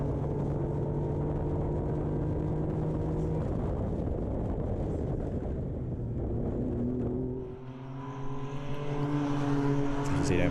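Race cars on the Mittsverigebanan circuit run fast down the downhill back straight, their engines making a loud, sustained roar that shifts pitch as they pass by and then fades.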